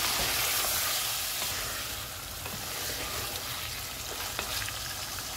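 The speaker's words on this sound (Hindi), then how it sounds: "हल्दी पाउडर और लाल मिर्च का पाउडर, ज़ीरा पाउडर और धनिया पाउडर। इनको 2 से 3 मिनट तक भूनेंगे।" Turmeric, red chilli, cumin and coriander powders frying in hot oil in a pot for chicken biryani, a steady, loud, close sizzle with faint stirring scrapes and no talk.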